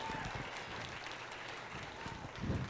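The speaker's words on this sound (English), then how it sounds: "let's give these kids a nice round of applause" A crowd at a junior livestock heifer show in Highlands County gives the young exhibitors a faint, distant round of clapping. The applause holds steady, with a few louder bumps near the end.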